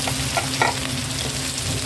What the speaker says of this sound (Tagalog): Magigisa na tayo ng bawang dito sa butter natin.